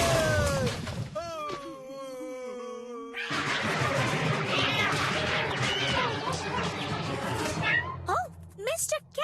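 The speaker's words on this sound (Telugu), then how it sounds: "ఓ మిస్టర్ క్యాట్, పాపం కిట్టి," In an animated Kid vs. Kat episode, a cartoon cat gives drawn-out, wavering meows and yowls, some strained like a caterwaul, mixed with busy sound effects and voices.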